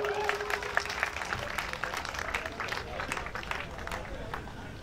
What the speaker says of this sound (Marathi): तर अतुल भोसलेसाठी एक जोरदार टाळ्या वाजवूया आपण.